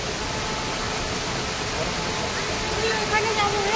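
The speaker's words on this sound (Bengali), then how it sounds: "আমরা বাটারফ্লাই ফলস দেখতে চলে এসেছি, আপনারা দেখাবো এই ফলসটা" Butterfly Falls, a roadside waterfall in Sikkim on the way to Lachung, pours with a steady, full broadband rush of water that stays constant throughout, with faint voices in the background.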